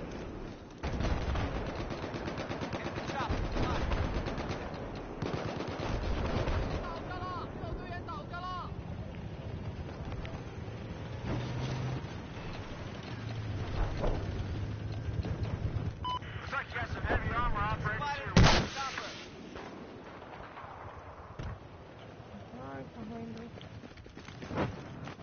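Rapid gunfire from a Battlefield match rattles on through most of the stretch, mixed with other game effects. Players keep talking over the shooting throughout.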